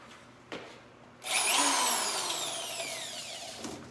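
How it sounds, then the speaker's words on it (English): A Bauer power drill spins up sharply after a quiet moment, running loud and whining with a slowly falling pitch for a few seconds before it stops. "Be using my new Bauer drill that my son got me for Christmas."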